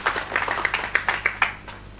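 Audience applause at a book release event comes as a short run of light, scattered hand claps, moderately near and fairly soft.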